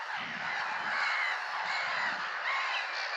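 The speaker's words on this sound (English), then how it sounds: "if you listen to the birds" A flock of geese honks continuously at a distance over the tidal flats of the Wash on the North Norfolk coast, a dense, overlapping chorus of calls with no speech.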